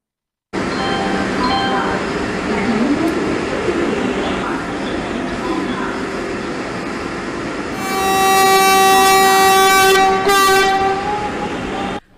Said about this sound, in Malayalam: രാവിലെ 5:10 നീട്ടിച്ചൂളം വിളിച്ച വന്ദേ ഭാരത് കുതിച്ചു പാഞ്ഞു.